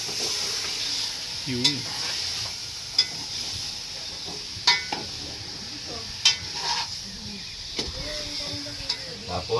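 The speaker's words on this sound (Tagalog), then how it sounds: "Tapos ihalo natin para mag-simmer yung lasa ng sibuyas at bawang." Onion and garlic sizzle steadily in a pan while being stirred, with sharp utensil scrapes and clinks recurring every second or two over the constant frying hiss, and a voice speaking briefly.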